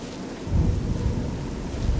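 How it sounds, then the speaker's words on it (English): A torrential rainstorm with thunder in the video game Oblivion, set in Cyrodiil: steady heavy rain hiss and a deep rolling thunder rumble swelling in after a brief quiet start, with no talk. "I don't mind a little rain, but this is like a torrential downpour. It's a storm."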